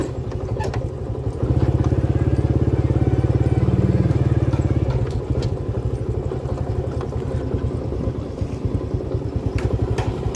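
A motorcycle riding through an old rural village, its engine putting along steadily up close, swelling louder for a few seconds before easing back to a steady chug.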